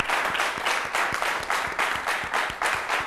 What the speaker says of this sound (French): Merci d'applaudir les femmes,